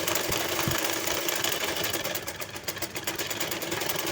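A sewing machine stitches a seam on a pattu lehenga full-size blouse, its close, steady mechanical whir and rapid needle clatter running continuously and loudly, with no voices.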